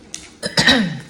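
A person clears their throat in a few rough, rasping bursts that build toward a final longer, gravelly clearing, close up and fairly loud.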